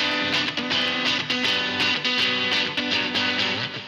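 A distorted electric guitar plays a short repeating riff, its gritty tone sustaining between evenly spaced picked notes.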